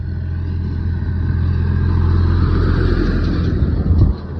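A tractor drives past on a village road in Chhattisgarh, its engine a loud, steady, close rumble that holds for several seconds, with no voices over it.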